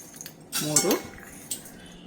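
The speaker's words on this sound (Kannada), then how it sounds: "4 ಟೀ ಸ್ಪೂನ್ ಆಗುವಷ್ಟು ಕಾಳುಮೆಣಸನ್ನ ಹಾಕ್ತಾ ಇದ್ದೀನಿ." About four teaspoons of white peppercorns tipped into a pan for dry roasting, giving a short close rattle and clatter of hard grains on metal, followed by a faint second tap.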